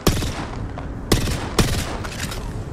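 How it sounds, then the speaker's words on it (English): Gunfire in Apex Legends during a competitive scrim match: dense, continuous bursts of rapid automatic shots with a few sharper loud cracks standing out, close and loud throughout. "Try to get damage on them, like shoot them up there."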